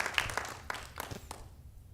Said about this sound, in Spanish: Denle un aplauso al Señor. Give a hand clap to the Lord.